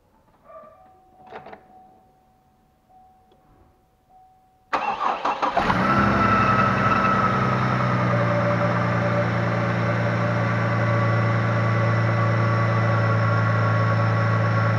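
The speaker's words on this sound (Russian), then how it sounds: "Ну что, пробуем заводить." A 2007 Chevrolet TrailBlazer 4.2 engine starts abruptly after a few seconds of near silence, cranking briefly and then settling into a loud, steady idle that continues to the end.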